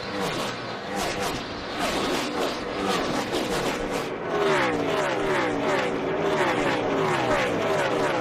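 NASCAR race cars roaring around the Las Vegas track, with loud, continuous engine noise and pass-by pitch sweeps layered throughout, close and dense, with no clear talking.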